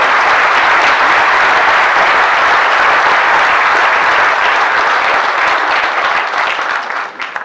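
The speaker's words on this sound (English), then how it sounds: "we will applaud Mohammed for this wonderful thing" Sustained, loud audience applause fills a hall at a bird photography awards presentation, steady throughout and tapering off near the end.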